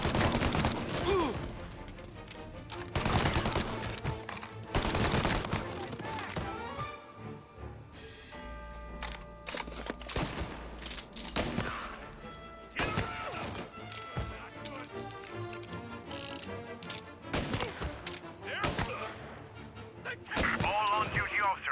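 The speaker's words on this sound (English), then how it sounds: "All on-duty officers, gunshots being reported." Bursts of gunfire from the video game Mafia Definitive Edition crack out repeatedly in irregular volleys, some rapid and overlapping, over game music and effects, with gaps between exchanges.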